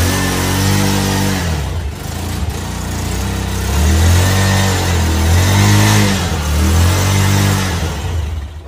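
A 220 motorcycle engine runs steadily and loud, close by, with repeated swelling revs and a dense throaty drone throughout and no talking.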